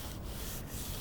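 An auto body panel is hand-sanded for feathering, a close, steady abrasive rubbing that carries on continuously with two brief dips as the strokes change direction.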